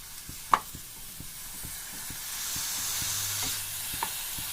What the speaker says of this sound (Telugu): అదే పెనంలోకి వాటర్లో కట్ చేసి పెట్టుకున్న వంకాయలు వేసుకుంటామండి.